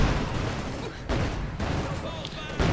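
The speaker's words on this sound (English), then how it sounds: "Osttruppen firing away" Osttruppen infantry rifles fire during a Company of Heroes 2 battle, dense crackling bursts of gunfire layered with booms and rumbling combat noise, under a caster's talk.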